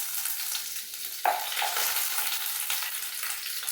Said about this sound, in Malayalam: ഇച്ചിരി വെളിച്ചെണ്ണ ഒഴിച്ചു കൊടുക്കുക. കടുകും കറിവേപ്പിലയും ഇട്ട് കൊടുക്കുക.